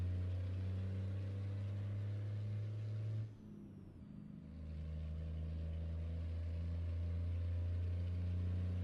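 A heavy truck in American Truck Simulator drones with a steady low engine note while hauling a load of about 70 tons, briefly dropping off mid-way as gears change before pulling hard again at low pitch.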